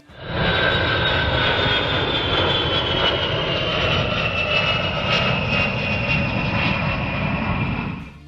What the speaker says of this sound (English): I hope you like my footage on the 707 takeoff and landing